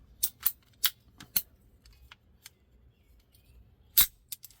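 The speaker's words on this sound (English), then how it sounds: "What is this? 1/2-inch PVC. And I clipped that much out of it." Half-inch PVC tubing being clipped with a cutting tool: a series of sharp, close snips in an uneven rhythm, several quick ones early, a loud one near the end, in a quiet room.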